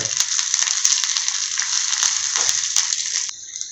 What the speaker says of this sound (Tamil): தேங்காவை சின்ன சின்ன துண்டாக வெட்டி அதையும் சேர்த்துருங்க அழகாக நல்லா வதக்கி விட்டுருங்க